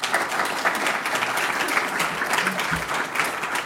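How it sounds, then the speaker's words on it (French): Audience applause for a speaker at a conference on neighbourhood energy and carbon, sustained even clapping from a sizable crowd, loud and close throughout. "On peut l'applaudir."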